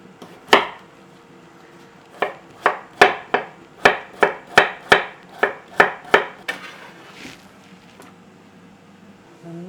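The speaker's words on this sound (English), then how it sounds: "And the rest of this I'll just cut nice and fine" Vegetables chopped fine with a knife on a cutting board during weekly meal prep for stir fries: about a dozen crisp, evenly spaced knife strikes, close and clear, then a short pause and a few softer taps.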